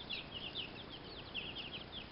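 A batch of nine baby chicks peeping: soft, high, repeated cheeps in a steady scatter, faint and slightly distant over a low background hiss, with no talking.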